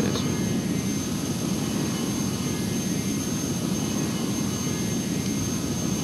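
A Lockheed T-33 Shooting Star jet engine in the FSX flight sim video game, heard as a steady, loud, unbroken roar with a faint high whine over it as the throttle is brought back.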